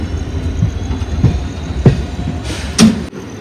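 The 16512 Kannur–SMVT Bengaluru Express rumbles steadily along the rails nearby, with periodic clacks and a brief hiss as it passes; no voices.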